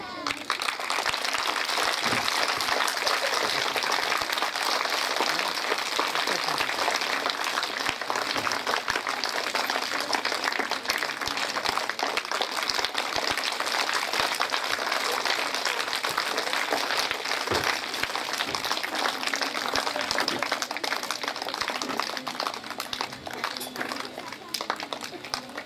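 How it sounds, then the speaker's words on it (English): An audience at a school medal distribution ceremony applauds to welcome a guest, a long, loud, sustained wash of clapping that fades near the end, with speech heard through it. "with a huge applause"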